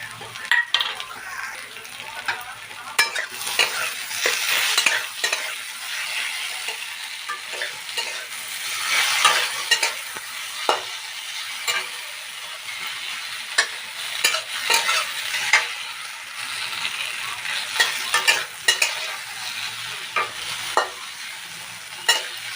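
Potatoes stirred in a hot pan with ground mustard-ginger paste, a continuous frying sizzle under frequent spatula scrapes and clinks, close and fairly loud.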